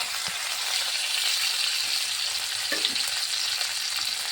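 Chopped ginger and green chilli sizzle steadily in hot oil in a wok, a continuous close frying hiss with a few faint stirring scrapes, no voices.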